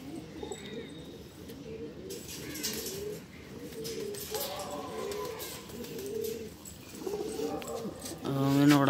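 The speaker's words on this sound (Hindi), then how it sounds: "भाई देखो ये टुकड़ी में उड़ाने के लिए कबूतर निकाले हैं अभी।" Madrasi pigeons in a flock being readied for flight, with soft cooing and brief bird calls under steady ambient noise and nearby talking, then a louder sharp burst near the end.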